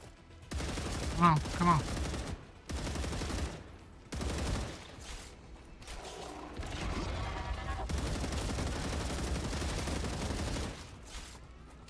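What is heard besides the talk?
gunfire from a video game, Star Rupture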